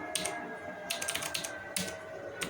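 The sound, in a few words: typing a password on a computer keyboard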